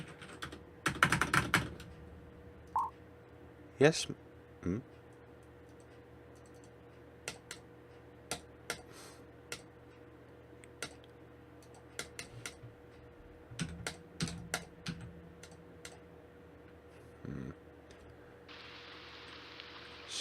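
Scattered keyboard taps and clicks come in short irregular bursts with long quiet gaps, close but faint, as someone hunts for game controls; a few brief spoken murmurs occur.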